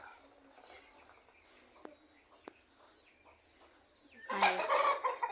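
Chickens at a home poultry farm cluck softly in the distance, with a few scattered calls over a quiet background before a louder, busier burst of flock noise near the end.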